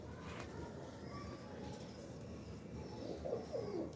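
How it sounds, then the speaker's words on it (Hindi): Pigeons coo softly in a loft, their low throaty calls rolling a few times toward the end over steady background noise at moderate distance. "अब ये टैडी कबूतर है"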